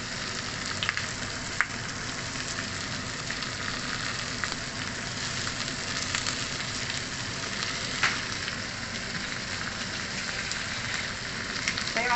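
Tomatoes sizzle steadily in a hot pan while pork adobo with potatoes cooks, a continuous, fairly close crackle with occasional sharp pops and no talking.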